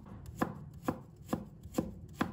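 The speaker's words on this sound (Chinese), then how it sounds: "再准备1块去皮的生姜，把它切成片，再把它切丝" A knife slices peeled ginger on a cutting board in five crisp, evenly spaced chops about half a second apart, close and clear over a quiet background.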